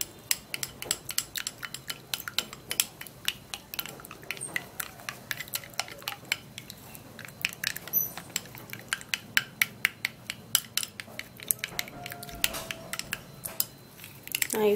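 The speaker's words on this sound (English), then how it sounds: "let me just stir these 3 ingredients together" A spoon clinks and scrapes rapidly against a small bowl while three ingredients for a homemade skin remedy are mixed, a busy stream of close, sharp ticks that lasts throughout.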